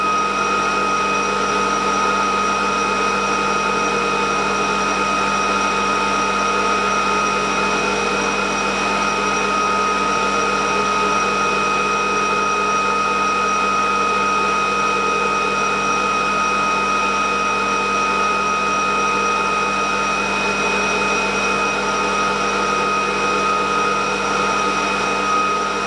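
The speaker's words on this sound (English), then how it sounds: "Regenerative acceleration mode, just the EV's motor running" An ebike EV electric motor runs in regenerative acceleration mode, giving a steady, unbroken whine with several tonal layers. It holds constant and close for the whole stretch, with no talking.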